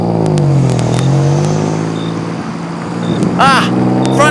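A car engine revs loudly in a horror audio drama, with steady harmonic engine drone under music-like tones and a squealing swoosh near the end; a voice is present.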